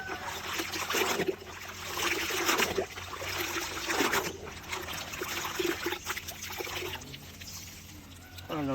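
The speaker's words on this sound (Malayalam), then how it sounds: "ബക്കറ്റ് എടുത്തിട്ട് ഇത് ആ ബക്കറ്റിൽ നമ്മൾ മുക്കാണ് കേട്ടോ ഓക്കെ നമ്മളിതൊന്ന് ഒലുമ്പി എടുക്കുകയാണ്" Washed cloth from a foldable mini washing machine is dipped and sloshed in a bucket of water, making steady close splashing and trickling that continues throughout with small surges.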